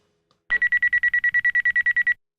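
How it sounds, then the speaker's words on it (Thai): An alarm clock rings in a steady run of about fifteen rapid, evenly spaced electronic beeps, loud and close, then stops abruptly with nothing else audible. "จนนาฬิกาปลุกวีก็รีบตื่น และจัดแจงทุกอย่างตามแผน"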